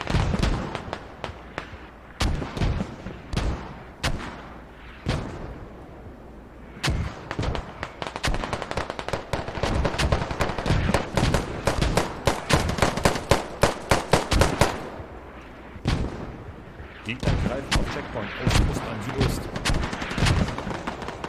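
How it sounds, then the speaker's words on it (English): Mortar rounds and gunfire pound a position in a tactical shooter match, sharp repeated blasts and bursts coming in rapid clusters, loud and close, with someone talking over parts of it. "Oh man, these mortars. Looks like they got 2 tubes insurgent, 2 tubes east. That's what they're hitting right now."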